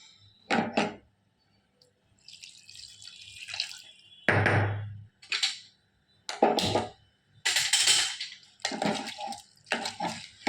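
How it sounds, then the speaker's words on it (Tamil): Water poured into moong dal in a pan comes in several short bursts of splashing and gurgling, separated by quiet gaps, fairly close and clear. "இப்போ தண்ணி கொஞ்சம் ஊற்றிக்கலாம்."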